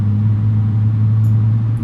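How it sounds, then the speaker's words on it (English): A Boeing 777 engine starts up, heard from inside the cabin in the GeoFS flight simulator: a loud, steady low hum and drone with faint clicks near the end. "There's our engine start sound from the interior."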